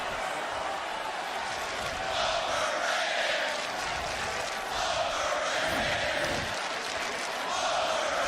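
A big football crowd at Autzen Stadium during the Oregon vs UCLA game, with a sustained roar and cheering that swells and eases at a distance, and commentary audible over it.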